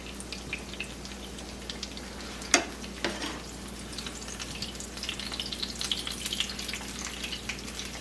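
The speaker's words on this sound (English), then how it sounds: "You fry them until they're crispy, about 2 to 3 minutes on each side." Chicken parmesan cutlets fry in a pan with a steady, quiet sizzle and crackle, broken by a sharp pop and a few clinks as the pieces are moved.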